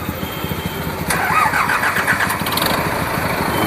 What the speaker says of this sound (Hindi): देखो भाई ट्रैक्टर ओनर चलाने जा रहे हैं